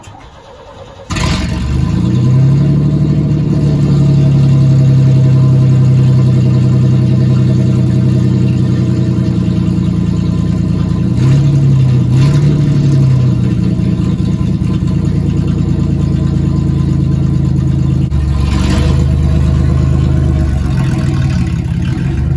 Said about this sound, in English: So we'll get another cold start.